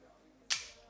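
A single crisp, sharp crack from an airsoft pistol built on a Tokyo Marui frame with a Detonics upper slide and an upgraded recoil spring, close and brief against quiet room noise.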